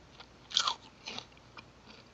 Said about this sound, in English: Eating celery, by the way, so if you hear me crunching, that's what it is.